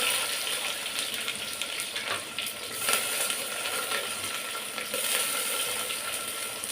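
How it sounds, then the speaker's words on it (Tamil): Chopped onions go into hot oil with mustard seeds in a pan, giving a loud, steady sizzle and crackle with scattered pops throughout. "கடுகு பொடிச்சு கட் பண்ணி வச்சுருந்த வெங்காயத்தை போட்டுக்கிறேன்."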